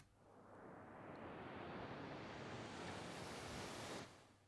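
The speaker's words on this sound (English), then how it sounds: "So there's two different kind of noise sweeps." A broad noise sweep rises steadily in brightness over several seconds, then cuts off sharply near the end, with no voices.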